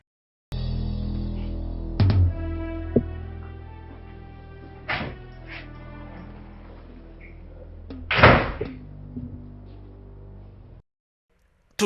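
A door handled in an indoor film scene: a few dull knocks and thuds spaced a few seconds apart, ending in a louder bang, over a low steady room hum with no talking.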